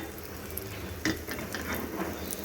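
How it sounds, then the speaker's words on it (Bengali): Small lentil dumplings (bori) are stirred in hot oil in a pan: a soft continuous sizzle under close scraping and clinking from the utensil, with one sharper clatter partway through. "বড়িগুলোকে খুব ভালো করে নেড়ে চেড়ে একটু ভেজে নিলাম"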